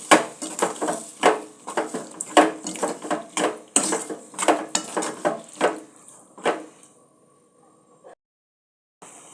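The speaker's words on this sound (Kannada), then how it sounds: "ಇವಾಗ ಏನು ಕಾಳಿದೆಯಲ್ಲ ಇದರೊಳಗೆ ಹಾಕ್ಕೊಳ್ಳೋಣ. ಹಾಕ್ಕೊಂಡು ಚೆನ್ನಾಗಿ ಮಿಕ್ಸ್ ಮಾಡ್ಕೊಳ್ಳಿ." Cowpeas with dry chili powder and spices are stirred in a pan, a spoon scraping and clinking in quick repeated strokes, close and fairly loud, before the stirring stops and the clip falls nearly silent.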